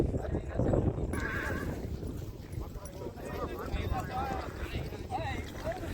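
Horses shuffle and snort amid a busy outdoor crowd lining up before a rewal chal horse race in Dhanavada, Abdasa, Kutch, with hoof clatter and a brief whinny under steady background chatter.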